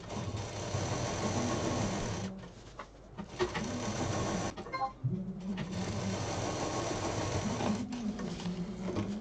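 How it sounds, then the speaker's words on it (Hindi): Sewing machine stitching quilted fabric pieces runs in close, loud bursts of rapid, even whirring, with short pauses in between. "कॉर्नर से कॉर्नर मिला दीजिए और दो साइड में सिल दीजिए।"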